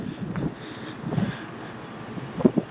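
Wind gusting through a snowy canyon, rough blustery noise buffeting the microphone with a few stronger gusts, heard alone without talk.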